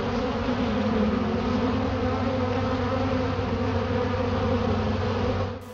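A steady, loud buzzing like a swarm of bees or wasps drones on without a break, full and close, then cuts off abruptly at the very end.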